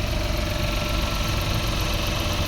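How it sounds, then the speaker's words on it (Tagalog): A Suzuki DA52 with an F6A engine idles steadily and loudly, misfiring, a continuous low rumble with a slight rhythmic knock throughout. "pakinggan nyo ang andar ng makina"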